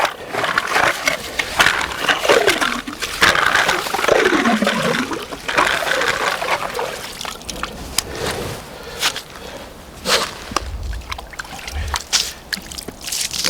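Clean Swedish river water trickles and splashes close by, with irregular gurgles and a few louder splashes over a steady flowing hiss, no voices.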